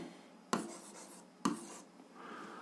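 Pen or pencil writing out an answer to a grade 7 algebra exercise, two sharp taps as the tip meets paper followed by brief scratchy strokes, close and quiet with no talk.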